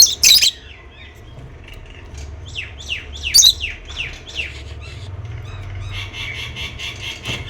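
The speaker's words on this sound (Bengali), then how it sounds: "বাইরেও কিছু পাখি ডাকছে, কি পাখি কে জানে" Birds call outdoors with bursts of sharp chirps and squawks, a run of rapid descending whistled notes, and steadier high chatter near the end, moderately loud over a low background hum.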